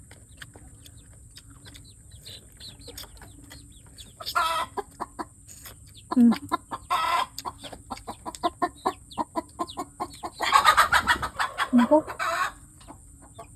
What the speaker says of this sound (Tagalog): yung manok na yun, nangingitlog, naglilimlim na